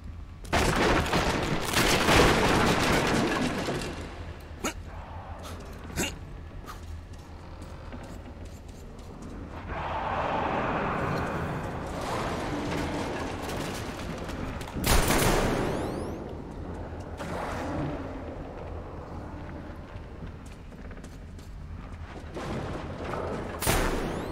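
Weapon fire in Metro Exodus, a burst of loud rapid gunshots at first, then scattered single cracks and heavier blasts amid game ambience, with no talking.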